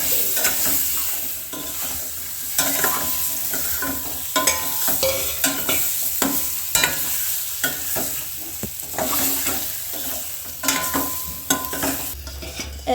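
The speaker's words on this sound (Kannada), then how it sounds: "ಇದಾಗ ತೆಗೆದಿಟ್ಟ ಮೊಟ್ಟೆಗಳನ್ನು ಹಾಕಿ ಒಳ್ಳೆ ಸಾಫ್ಟ್ ಮಾಡಬೇಕು." Eggs for egg masala fry and get stirred in a smoking-hot pan at home, a steady close sizzle with frequent scraping clatters of a spatula against the metal throughout, no voices.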